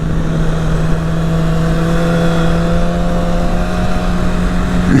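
A Harley motorcycle riding past at a car meet, a loud steady engine drone holding one pitch for the whole stretch, close by.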